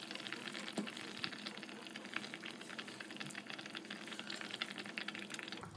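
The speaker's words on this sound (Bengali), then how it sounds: "এবার আমি ওপর থেকে মাছগুলো দিয়ে দেবো।" Barramundi pieces dropped into a boiling curry on the stove, giving a faint, continuous bubbling sizzle with small splashy ticks, and no voice over it.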